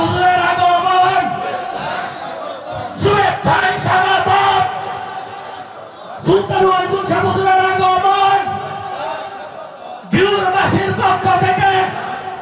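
A crowd shouts a takbir chant at a religious gathering in Bangladesh, loud and close in several bursts of massed voices with brief pauses between, while a voice speaks over it.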